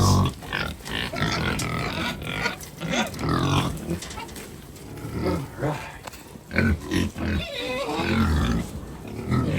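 Pigs grunt and jostle inside a livestock trailer, a busy run of close, rough grunts and squeals over rumbling movement, with people talking throughout.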